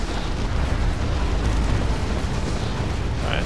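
Dense explosions and artillery fire in the Warhammer 40k strategy game Dawn of War 2: Retribution, a loud, continuous rumbling roar of overlapping blasts with no gaps, no talking.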